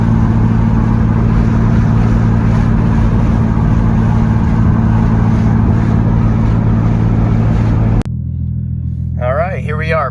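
Nissan R33 Skyline driving, a loud steady low engine drone and road rumble from inside the car that cuts off abruptly near the end, followed by quieter cabin sound and brief talk.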